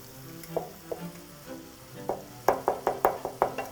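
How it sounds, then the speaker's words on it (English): Metal utensil scraping stuck spices off the bottom of a cooking pot while making chicken breyani: short sharp scratches, sparse at first, then a quick run of rhythmic scrapes, close and fairly quiet. "I'm just going to gently scrape away whatever's stuck to the bottom"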